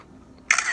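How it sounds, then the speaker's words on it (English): A single digital camera shutter click sounds sharply after a short quiet pause, a crisp mechanical snap followed by a brief bright whir, close and clear with no voices. "The sound of a digital camera shutter, accompanied with a blindingly bright flash coming from an adjacent room"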